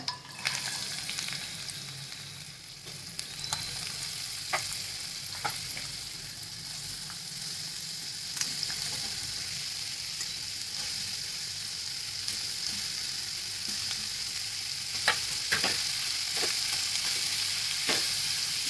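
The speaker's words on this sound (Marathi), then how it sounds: "तेल तापलं की याच्यामध्ये कांदा टाकायचा" Onion frying in hot oil for a spicy onion chutney, a steady bright sizzle throughout with occasional sharp stirring clicks and pops scattered across it.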